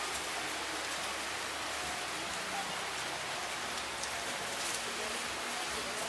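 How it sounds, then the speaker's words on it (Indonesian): Rain falls steadily at a street food market in Manado, a constant hiss of drops on surfaces that stays even and moderately loud, with no clear talk over it. "Hujan-hujan."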